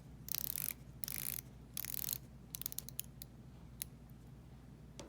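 The 120-click rotating bezels of Seiko and Orient dive watches ratchet in short bursts, first a few longer runs of rapid fine clicks, then scattered single clicks, close and crisp in a quiet room.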